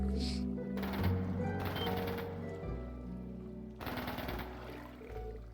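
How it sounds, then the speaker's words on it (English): Bursts of rapid gunfire crackle from the game The Legend of Heroes: Trails into Reverie, with a low rumbling music bed underneath and brief pauses between volleys. "Is that gunfire?"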